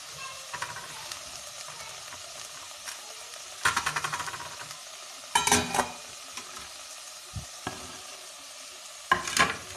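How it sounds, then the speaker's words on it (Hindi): Finely chopped vegetables, including capsicum and cabbage, stir-fried and tossed in a hot pan for hot and sour soup: a soft steady sizzle broken by several sharp bursts of scraping and clattering as the vegetables are tossed. "इनको अच्छे से टॉस करेंगे। अच्छे से इनकी फ्राइंग होगी कि तमाम वेजिटेबल्स आपस में मिक्स हो जाएं।"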